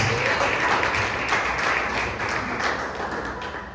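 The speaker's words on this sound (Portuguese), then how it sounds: "Que as palmas bem fortes louvam o Senhor Jesus." A church congregation at a family worship service claps loudly and steadily, a dense, sustained wall of applause that fills the room without a break and fades a little toward the end.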